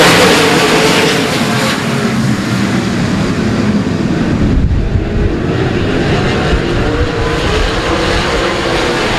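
A pack of race cars at Cotton Bowl Speedway roars at the green flag, a dense, loud, continuous engine wash with buffeting wind noise and a brief dip midway.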